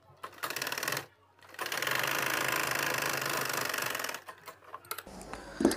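A sewing machine sews a school skirt in short close bursts: a brief run, a pause, then a long steady stitching run of about two and a half seconds, followed by handling clicks and a faint voice at the end.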